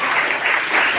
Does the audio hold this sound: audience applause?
yes